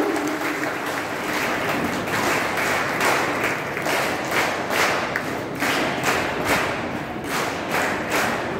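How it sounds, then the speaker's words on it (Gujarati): A crowd at an International Women's Day commerce college event gives sustained thunderous applause honoring the cadets, dense loud clapping that fills the room evenly from start to finish with a faint rhythmic pulse. "ગડગડાટ તાળીઓના સાથે આપણે કેડેટ્સનું સન્માન કરી દઈશું."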